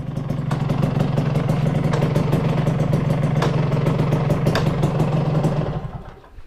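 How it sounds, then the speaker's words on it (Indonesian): A warmed-up motorcycle engine idling steadily and close by, with a low, even putter and light periodic clicks. The sound fades down at the end, and no one speaks. "udah panas mesinnya dia langsam tuh suaranya"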